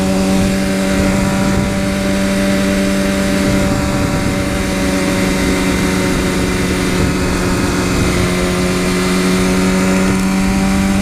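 A 2015 BMW S1000RR sport motorcycle engine runs loud and close, a sustained, tonal droning roar holding steady without pause.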